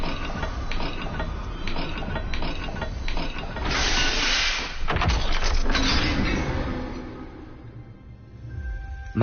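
A symbol-matching puzzle mechanism in Hogwarts Legacy grinds and clicks open over a stretch of ratcheting gear noise, with a bright whooshing hiss in the middle and continuous game sounds around it.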